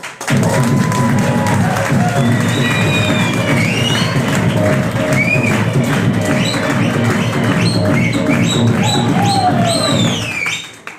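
An audience at a stage event claps and whistles loudly, sharp rising whistles cutting through sustained applause and crowd noise, dense and close throughout before fading at the very end.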